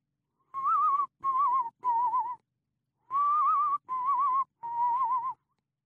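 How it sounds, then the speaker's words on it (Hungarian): A man whistles the tune of Three Blind Mice. The clear, close notes come in two phrases of three notes each, separated by a short pause. "A három vakegér dallamát fütyülte."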